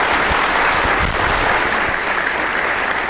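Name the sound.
audience applause for panelists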